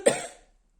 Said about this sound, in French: vous allez m'entendre un peu tousser de temps en temps